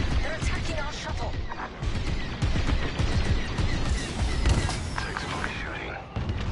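Laser blasts from fighters in the Star Wars Squadrons space combat game crackle and boom steadily through a dense, busy mix, with voices heard under the fire.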